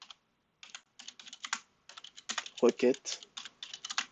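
Rapid clicking keystrokes on a computer keyboard in irregular bursts with brief gaps, close and crisp, while someone speaks quietly over the typing.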